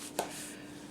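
A single quick knife cut through soft sticky bun dough, slicing it into roughly one-inch pieces for caramel pecan rolls; one brief close stroke over a low steady background hum.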